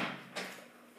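A door swings open in Free Fire with a single short, faint soft thud and scrape, fading quickly into quiet.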